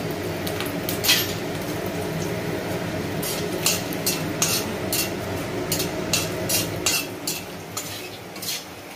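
Whole garam masala, bay leaves and dry red chillies fry in hot oil with a steady sizzle, overlaid by repeated sharp clinks of a spoon stirring against the pan, close by.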